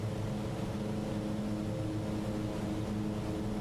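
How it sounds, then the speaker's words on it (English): Aerosoft Twin Otter plane in Microsoft Flight Simulator, a video game, with a steady, low droning propeller engine hum that holds constant at moderate volume with no voices. "Plane looks and sounds epic."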